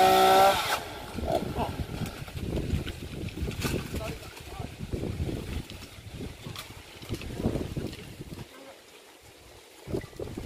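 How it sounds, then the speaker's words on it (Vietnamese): A chainsaw cuts into an old Bodhi tree on temple grounds, its engine note rising and falling in uneven bursts through strong wind buffeting the microphone, with voices talking nearby. "Đó là cách mà ba mình để máy cưa."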